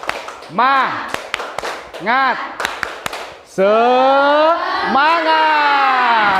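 A school class does a rhythmic spirit clap in a classroom, with sharp unison claps falling in a patterned beat between loud chanted and sung voices.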